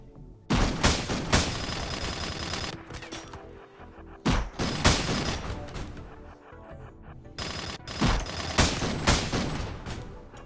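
Gunfire in the video game Rimworld: repeated volleys of sharp shots in several bursts a few seconds apart, loud and layered, with no talking.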